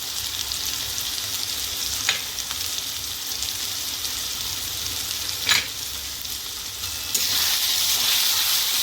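Two spoonfuls of chili powder sizzle in a pan of frying spices with coriander powder for a soybean curry: a close, steady crackle with occasional sharp stirring scrapes, louder toward the end.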